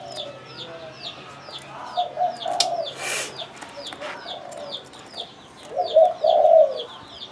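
A Phu Yen spotted dove, a wild-caught bird noted for strong cooing, gives soft repeated coos at close range, mixed with other small chirping birds in the background and no talking.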